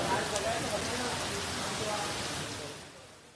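Steady rain falling for a long spell during a monsoon shower in Vidarbha, a dense even hiss that holds throughout and fades slightly at the end, with no voices.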